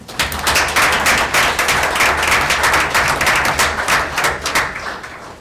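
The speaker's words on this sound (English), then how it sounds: "Please join me in a round of applause" A room of people at a township committee meeting gives a round of applause, dense steady clapping that fades slightly toward the end.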